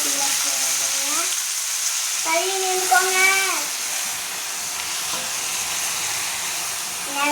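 Drumstick leaves (murungai keerai) fry in a pan with a steady broadband sizzle, while a voice talks intermittently over the cooking noise.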